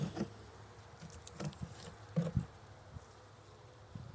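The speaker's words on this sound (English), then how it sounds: "I'm just going to shake the bees down in there" Honeybees buzz faintly around a nuc box during a frame inspection, a soft low hum broken by a few knocks and taps from handling.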